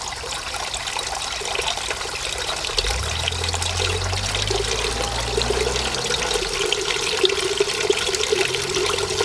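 Water poured quickly from a watering can into a plant pot and draining through it, a loud continuous splashing and trickling rush with a low gurgle partway through, with no talk.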